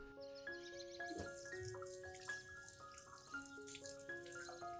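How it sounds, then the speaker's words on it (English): Water runs from a tap over a pothos plant being rinsed and splashes softly, with steady faint trickling under a background of sustained musical tones. "rinse the entire plant under clean running water"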